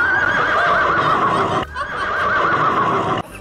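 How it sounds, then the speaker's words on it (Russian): A loud horse-neigh sound effect: two long, quavering whinnies in a row, separated by a short break, heard close and alone without speech. "это кто там ржет на последней партии?"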